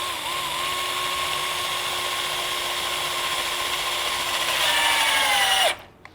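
A power drill whines steadily for several seconds, its pitch dipping as it drives a screw into a wooden deck post, then stops abruptly.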